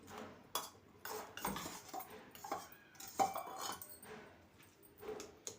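Okra chutney mixed with green chilli paste being pounded by hand in a stone mortar, giving quiet, uneven knocks and scrapes with short pauses between strokes, close by and with no voices.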